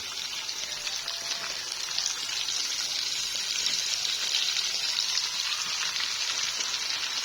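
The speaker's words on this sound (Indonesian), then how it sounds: "Ini aku masukkan kayak gitu, aku goreng serundengnya." Serundeng, spiced grated coconut, frying in a pan with a steady, dense sizzle that holds at an even, fairly loud level throughout, with no speech over it.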